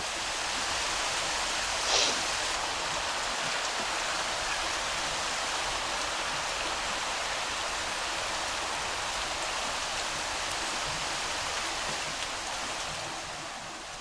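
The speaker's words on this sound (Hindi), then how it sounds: "पूरी बारिश हो गई।" Heavy rain falls steadily as a dense, even hiss of drops pattering on surfaces, loud and unbroken, with a brief sharper splash near the start and a slight easing at the end.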